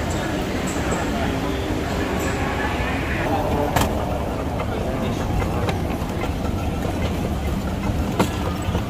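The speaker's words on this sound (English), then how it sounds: "See, that's the train" An airport terminal train at Hong Kong International Airport rumbles past with a steady rolling roar and faint rail clatter, heard inside the busy terminal amid broadband hum and a few sharp clicks.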